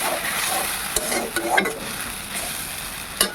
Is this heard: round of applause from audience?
no